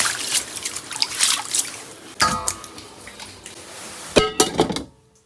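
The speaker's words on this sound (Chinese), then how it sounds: "把牛蹄给它好好清洗清洗。" Tap water runs and splashes in bursts over beef hooves being washed in a home kitchen, close and fairly loud, with clunks of handling between the streams.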